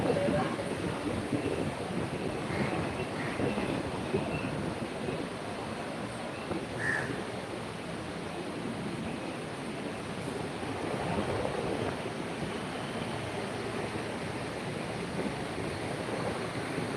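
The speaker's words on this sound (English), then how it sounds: "feeling a strong gust of wind. You can even hear it through the smartphone's microphone." Strong gusts of wind buffet a smartphone microphone outdoors near UOB Plaza in Singapore, giving a steady loud broadband rumble and roar that continues throughout with slight swells and no clear pauses.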